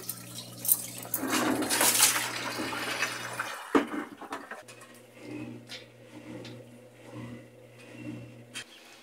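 Whirlpool washing machine draining during a quick wash cycle: rushing water with a low steady pump hum, a brief clunk, then the hum continues with gurgling and pulsing drain flow.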